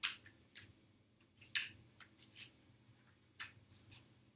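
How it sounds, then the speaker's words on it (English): Tarot cards are shuffled and pulled from the deck close up, making a quiet series of crisp slaps and swishes in irregular bursts against near silence. "I want to pull two more cards."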